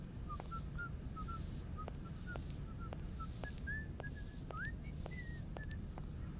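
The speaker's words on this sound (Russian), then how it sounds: "Просто локация, на которую можно сходить и послушать свист деда со щеткой." An old man with a brush whistles a wandering melody of short, separate notes in the Syberia video game, faint and steady over a soft ambient background, with rhythmic light ticks.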